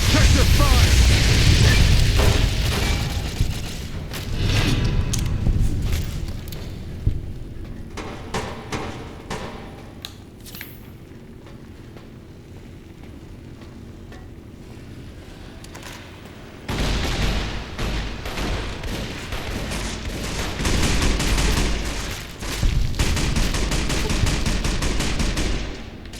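Heavy gunfire during the Battle of Hoover Dam in Fallout New Vegas, dense volleys and rattling bursts that are loud at first, thin out in the middle, then return as sustained rapid shooting.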